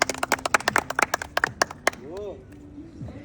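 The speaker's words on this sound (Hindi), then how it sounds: "तालियां हो जाए सब, तालियां।" A group of people at a casual gathering of old friends in Hyderabad claps in a quick, uneven burst for about two seconds, close by. Voices and talk come in as the clapping dies away.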